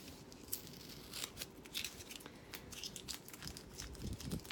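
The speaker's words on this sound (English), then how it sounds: "I don't think we'll need the scissors anymore" Scissors snip through packaging tape while a diamond painting kit is unboxed: quiet, close crisp cuts and crinkling of plastic and tape, scattered irregularly with no talking.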